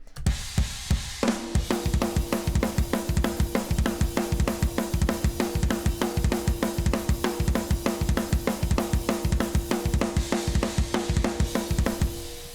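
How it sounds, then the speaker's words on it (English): A fully processed drum track from a metal mix, with all effects on, plays alone: loud, fast, steady kick and snare hits in a driving, even rhythm with a ringing, metallic snare tone. "the drums on their own sound like this with everything in"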